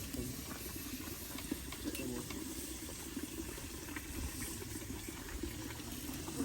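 Butter sizzling in a hot pot as barbecue sauce gets started at an outdoor cookout, a steady close hiss and crackle running throughout with little change in level.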